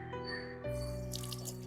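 Tap water runs fast into a sink at a public site in Chennai, a steady close splashing rush with a brief shift in tone partway through.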